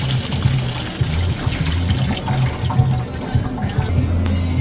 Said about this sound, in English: we're going to pour it into this chinois or fine mesh